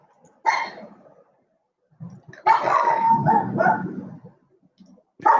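A dog barks in several loud, close bursts, one short yelp followed after a pause by a longer run of rapid barks, then another bark starting at the end.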